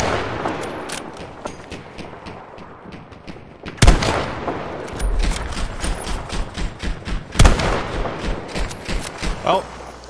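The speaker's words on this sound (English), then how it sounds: "If it wasn't for this double A gun going non-stop" An anti-aircraft gun fires in the video game Battlefield V as rapid repeated bursts of gunfire with two heavy booms mixed in, continuing under a player's voice.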